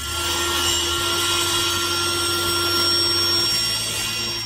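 Steady, continuous power saw whine cutting through wood for stairs, a constant droning buzz with no talking.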